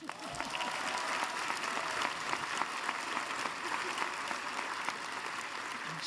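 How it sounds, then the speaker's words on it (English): Steady applause from the audience at a School of Social Work degree ceremony, sustained clapping from many hands throughout, fairly distant, with a faint murmur of voices underneath. "How about a round of applause?"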